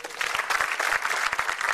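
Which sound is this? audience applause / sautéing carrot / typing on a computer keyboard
audience applause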